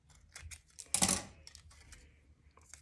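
Scissors snipping off the loose tail end of string while assembling a hanging mobile, a sharp close cut around the middle amid light clicking handling noises, no talking.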